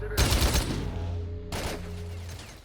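Rifle fire from the video game S.T.A.L.K.E.R. comes as two close, loud bursts of rapid shots, each ringing out with a lingering tonal tail, without speech.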